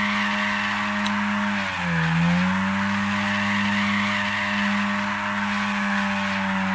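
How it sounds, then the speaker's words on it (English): A 1992 Honda Civic EG6 converted to 379-horsepower all-wheel drive does burnouts, tires squealing in a long steady screech over droning engine tone, with one dip in pitch partway through. "Burnouts in the sunset."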